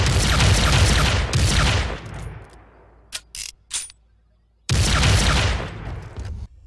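Machine pistol fire in the shooter game Brink: two loud, sustained automatic bursts, a quiet gap with a few short clicks and mechanical handling sounds, then another long burst, all close and without talk.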